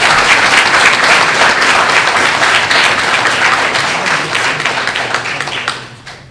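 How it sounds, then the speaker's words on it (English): Sustained applause from a fire academy graduation audience honoring candidates and graduates, a dense steady wash of many hands clapping that carries on for several seconds before tapering off at the end. "Please give all of our candidates and graduates a round of applause."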